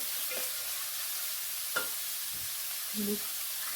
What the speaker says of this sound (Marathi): हा पाला परतून घेऊया